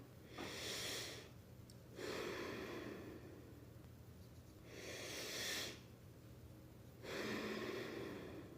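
Slow, rhythmic belly breathing heard up close, long airy inhales and exhales alternating in steady cycles of about two to three seconds each, with no talking.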